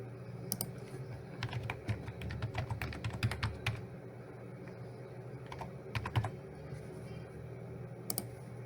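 Keys clatter on a computer keyboard during static IP route configuration for a networking lesson, coming in quick bursts of clicks with short pauses, plus a few isolated taps near the end.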